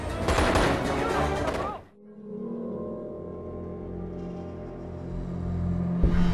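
Incendiary ammunition fires in the video game Crysis as a loud, dense burst of rapid gunfire lasting about two seconds, then cuts abruptly to a calm, steady tonal background.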